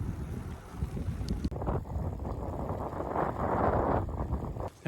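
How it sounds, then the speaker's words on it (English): Strong wind on a bike path in South Korea buffets the microphone in a loud, continuous roar with gusting swells, ending abruptly. "Also, is windy as all get out right now."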